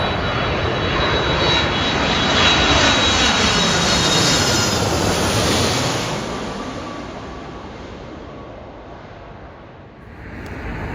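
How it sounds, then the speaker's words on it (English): A United Airlines Boeing 767 arriving from Washington DC at Heathrow roars past with a loud, sustained jet-engine rumble that swells, sweeps in pitch as it passes overhead, then fades away. "And coming up, United Airlines, Boeing 767 from Washington DC. I think we can hear it."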